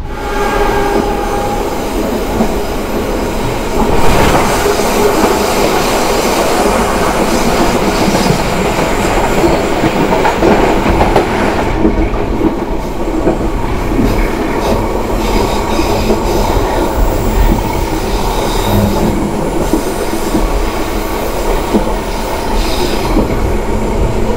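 The Taksaka Tambahan train, heard from its panoramic class carriage, rumbles through hilly terrain, with loud continuous wheel noise, rhythmic clickety-clack and occasional squealing wheels on curves.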